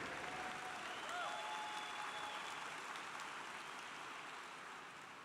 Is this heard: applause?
yes